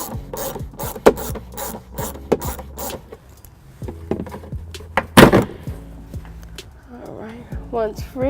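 A ratchet with an extension and 12 mm socket loosens bolts during a trailer hitch install on a 2017 Toyota Highlander, giving a run of quick, close clicks and rasps, then scattered clunks with someone talking at times.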